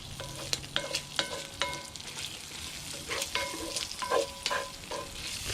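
Onions and food crackling in rendered bacon fat in a pan, a busy close sizzle with repeated bright scraping and stirring clinks from a utensil, no voices.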